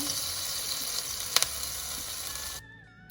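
A grilled vegetable, pesto and mozzarella panini crackles under a weight in a hot pan, a bright, even sizzle with a couple of sharp pops, cutting off abruptly near the end.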